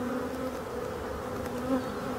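Bees buzz at a beehive near the brood, a dense, steady close-up hum of many insects with small fluctuations and no talk.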